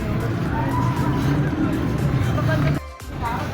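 Road traffic rumbles past a people's park picnic garden, a dense continuous drone of car and vehicle engines with voices of people chatting over it, briefly dropping out near the end.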